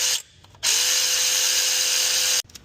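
A power tool spins out a Torx head bolt on a VW Tiguan 2.0 TSI during oil pump work, a loud, steady, high whine lasting about two seconds that starts and stops abruptly, close to the listener.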